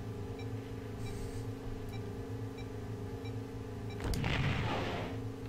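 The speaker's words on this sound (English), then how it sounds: "We got missiles, we can use them." A starfighter in the Star Wars TIE Fighter video game fires missiles: a steady engine hum runs throughout, then a loud whooshing burst of launch noise swells near the end and fades, with no voices.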